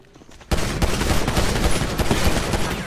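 Rapid automatic gunfire from GTA starts abruptly and continues as a dense, loud burst of shots for a few seconds.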